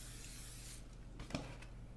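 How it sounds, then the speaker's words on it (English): A short hiss of cooking spray coats the inside of a mixing bowl, a faint close burst lasting under a second, followed by a soft tap. "So I spray the inside of this bowl really good."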